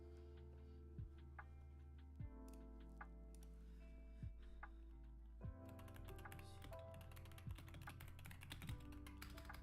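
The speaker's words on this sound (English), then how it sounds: "Typing ASMR incoming." Quick, fairly soft clicking from a computer keyboard during a League of Legends esports co-stream runs as steady typing under a sustained low musical drone, with a few louder isolated thumps.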